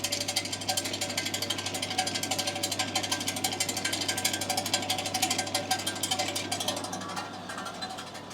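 A household GKP-4-220 pellet mill presses broiler feed into pellets, giving a steady loud mechanical clatter and ratcheting grind with a constant motor hum, running alone and easing slightly toward the end.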